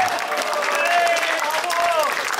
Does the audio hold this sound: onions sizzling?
no